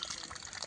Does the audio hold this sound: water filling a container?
yes